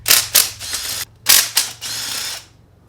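A ratchet clicks in quick bursts while loosening the 5 mm Allen bolts on the secondary air pump of a Mercedes SL55 AMG with the M113K engine. Four or five bright, close ratcheting runs are separated by short pauses.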